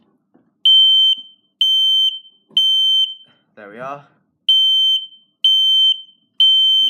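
A smoke and fire alarm sounder under test gives a loud series of sharp, evenly spaced high electronic beeps, seven in all, with one short spoken remark in a gap between them.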